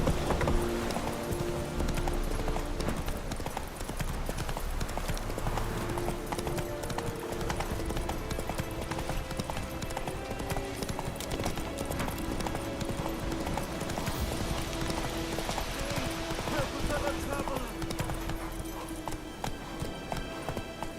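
Hoofbeats from the horse Roach in The Witcher 3 clatter in a steady, continuous clip-clop gait under a dense bed of game music and ambience, with brief voices shouting now and then.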